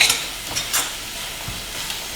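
Spinach curry (palak) being stirred in a pan, a few soft scraping strokes with a faint sizzle underneath, close and fairly quiet.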